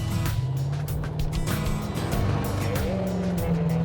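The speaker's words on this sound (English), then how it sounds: "That hopefully does burnout." Super Camaro race car revving hard during a burnout, a loud continuous engine roar with rising and falling pitch and harsh tire noise, people talking faintly underneath.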